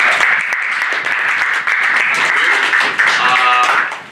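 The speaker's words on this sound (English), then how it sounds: "Let's give a round of applause to our" Audience applause at the close of a panel on building within the wildland-urban interface, dense steady clapping for about four seconds, with a voice starting to speak over it near the end.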